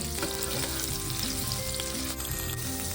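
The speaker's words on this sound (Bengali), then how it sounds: "এখানে আলুগুলো এরকম ভাজা হয়ে গেছে" Potatoes sizzle steadily in hot oil in a pan, cooked alongside pointed gourd, with a continuous close frying hiss and occasional stirring clinks and no voices.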